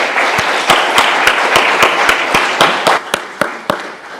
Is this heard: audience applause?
yes